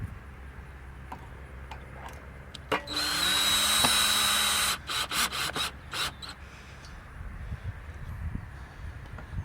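A power drill drives screws into a 4x4 wooden post inside a Stratford mailbox post, with one sustained whirring run of about two seconds followed by a few short stuttering bursts, close and loud against quiet outdoor background.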